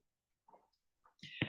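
A single quick sneeze bursts out in a statistics lecture after a couple of soft, faint sounds, sharp and fairly close.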